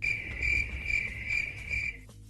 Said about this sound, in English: Crickets. Yeah.